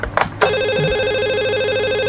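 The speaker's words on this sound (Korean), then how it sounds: "또 웬 전화가? 여보세요?" A telephone rings close by with a steady warbling electronic tone that starts after a few quick clicks and knocks and continues without a break.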